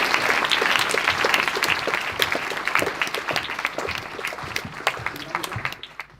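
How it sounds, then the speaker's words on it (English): Audience applause for two speakers at a school talk, a dense, steady wash of many hands clapping that fades slightly toward the end. "I want you to give them a massive round of applause,"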